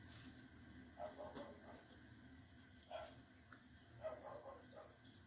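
A dog barks in the morning, several faint yips spread across the stretch, distant and low in level against a quiet indoor background.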